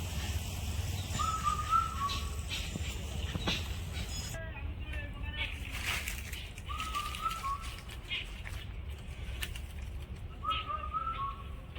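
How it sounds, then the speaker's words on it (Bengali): In a mango orchard, a bird repeats a clear whistled call three times at even intervals over a steady outdoor rumble of distant traffic. A person talks faintly in the background. "এখন প্রচুর পাখির আওয়াজ আছে এখানে।"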